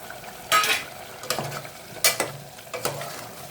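Mushrooms for a spicy mushroom biryani sizzling in a pan with yogurt and spices, with four sharp bursts of a spoon stirring and scraping against the pan over a steady low fry.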